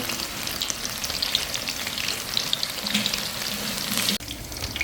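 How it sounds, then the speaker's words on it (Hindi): Pakoras deep-frying in hot oil give a steady, close crackling sizzle that runs unbroken, dipping briefly near the end before carrying on. "इधर हमारे पकौड़े फ्राई हो रहे हैं"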